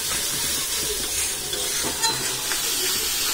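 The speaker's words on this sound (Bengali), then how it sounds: "এবারে মশলাটা ভালো করে কষে নেব।" Turmeric, chili powder and salt masala frying in hot oil for chana pulao, a steady broadband sizzle with a few soft scraping stirs, close and continuous with no talking.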